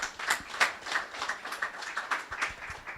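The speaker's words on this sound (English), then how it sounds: "A round of applause for her, please." Audience applause at a Nigerian energy-efficiency dialogue on smart buildings: many hands clapping in a steady, dense patter for about three seconds, with no voices over it.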